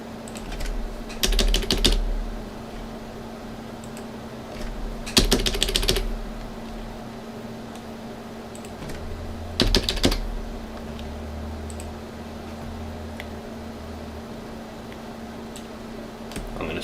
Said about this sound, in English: I'm using the arrow keys to adjust them a bit.